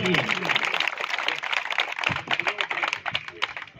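Crowd at an outdoor kabaddi mega final clapping for a guest, a dense rattling applause that continues throughout, with an announcer's voice running over it.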